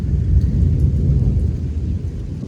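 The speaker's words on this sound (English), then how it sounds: "Lightning just struck right now." Thunder from a nearby lightning strike during a storm over a moored sailboat, a loud deep rumble that rolls on steadily for a couple of seconds and slowly fades.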